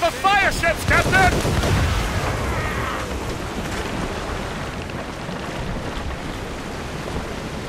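Cannon fire from a ship at sea in Assassin's Creed Rogue comes as a few heavy booms at the start, then fades into a long rumble of wind and waves. Shouting voices sit over the opening blasts.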